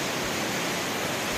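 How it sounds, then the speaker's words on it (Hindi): Fast-flowing flood water rushes under a bridge during a cyclone in Andhra Pradesh, a loud, unbroken broadband roar with no pauses, like a steady torrent heard close by. "देखिए कितना तेज है बहाव पानी का"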